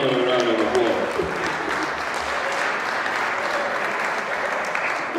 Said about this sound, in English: Let's give Miss Wahida Muhammad a round of applause.